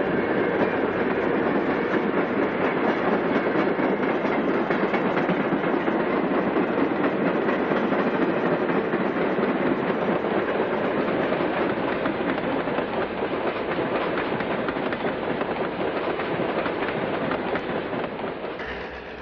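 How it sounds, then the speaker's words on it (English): A red diesel passenger train with stainless steel sides gets underway, its engine roar and wheels on rail filling the scene loudly and steadily with faint clickety-clack, easing slightly near the end. "The sleek unit with its red paint and stainless steel sides is soon underway."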